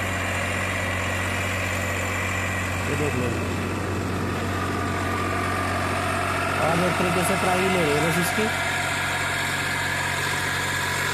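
A Massey Ferguson 8055 tractor engine runs at a steady, loud, throbbing idle close by while someone talks over it.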